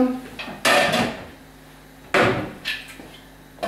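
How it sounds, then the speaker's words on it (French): A metal lid is set onto a pot of mussels with a couple of loud clanks and rattles, then further lighter clatters, close by, with a brief voice in the background. "Et nous allons mettre un couvercle."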